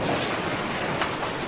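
Heavy monsoon rain pours down in a steady, dense roar, loud and close with no break or voices over it.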